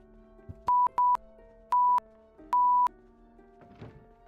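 Four electronic beeps in a Project Zomboid session, clean pure tones of short and longer lengths spaced unevenly like Morse code, fairly loud over a quiet background, followed by a brief rustle.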